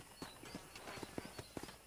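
A horse's hooves clip-clop at a steady trot in the Western game Red Dead Redemption, the rhythmic hoofbeats faint and somewhat muffled under a constant background hiss.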